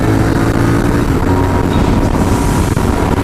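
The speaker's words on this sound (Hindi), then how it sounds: "थोड़ा बाइक को लो गियर पर डाल के देखते हैं कितनी साउंड ले रहा है" A motorcycle engine is held in low gear and revved, producing a steady, loud, rumbling drone with dense low-end roar that runs through the whole stretch, with no talking.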